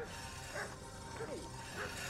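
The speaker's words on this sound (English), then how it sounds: "Just wish that dog would shut the hell up." A dog barks repeatedly in the medieval role-playing game Kingdom Come: Deliverance, a few yips spaced apart beneath a steady, dense game soundscape.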